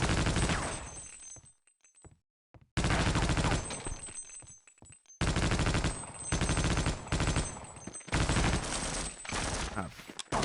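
Bursts of rapid machine gun fire in the video game Half-Life: Opposing Force, loud and sustained in several volleys separated by short gaps, with a few quieter moments between them.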